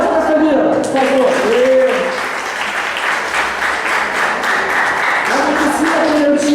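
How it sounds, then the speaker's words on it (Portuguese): Audience applause for a performer named Camila at a cultural event, steady dense clapping filling the whole stretch, with voices and cheers mixed in over it. "palmas pra Camila, por favor"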